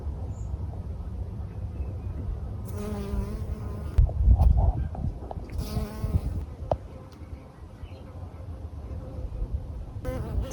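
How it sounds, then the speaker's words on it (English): Bees buzzing around a backyard vegetable garden in Melbourne in mid April, a near continuous droning hum with louder close passes and some handling rustle, no talking. "So many bees today."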